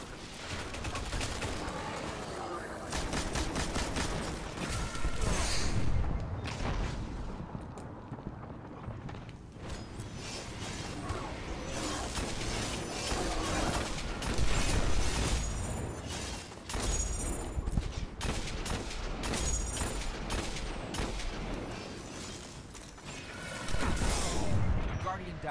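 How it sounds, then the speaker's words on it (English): A missile swarm fires during a strike in the video game Destiny amid dense, continuous in-game gunfire and explosions, with players talking over the barrage. "Dude, this missile swarm."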